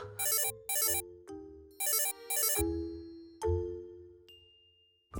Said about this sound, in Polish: Dzwonimy do Wojtka